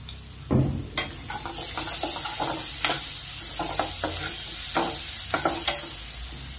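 Red amaranth greens frying with turmeric in a hot pan, a steady sizzle broken by repeated clinks and scrapes of a spoon stirring, close and fairly loud, with no talking.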